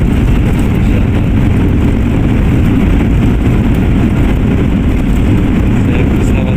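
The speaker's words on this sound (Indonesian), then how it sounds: "pesawat semakin bergerak pelan" Sriwijaya Air passenger plane rolling slowly after landing at Sepinggan Airport in Balikpapan, a loud, steady low engine rumble and cabin drone heard from inside, unbroken throughout.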